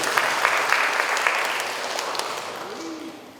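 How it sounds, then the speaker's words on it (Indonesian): Audience applause for schoolteachers at an education seminar, a loud burst of many hands clapping that gradually dies down, with a voice briefly heard at the tail. "Tepuk tangan untuk Bapak Ibu guru."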